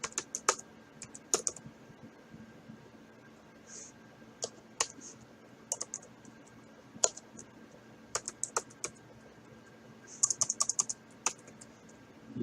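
A computer keyboard is typed on while a Linux user-add command is entered during an Arch install, with irregular close clicks and short bursts of keystrokes over faint room hum.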